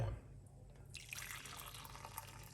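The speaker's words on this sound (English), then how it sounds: "We're gonna just simply pour it off." Clove and ginger tea poured off without straining, a soft close trickle of liquid streaming into a cup that starts faintly and builds to a steady pour.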